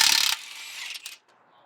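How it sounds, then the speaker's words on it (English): A ratchet wrench loosening the bottom shock bolt on a SPEED UTV trailing arm, a quick burst of rapid metallic clicks followed by faint scraping, close and alone. "we're going to pull this bottom shock bolt here to allow this trailing arm to droop enough to get this axle out"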